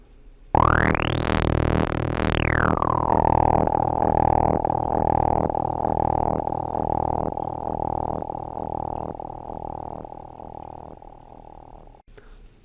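Korg Volca NuBass synthesizer with a tweaked patch: a filter sweep rises then falls into a gritty, distorted bass drone pulsing in rapid LFO-driven steps, loud and continuous for about eleven seconds, no voices.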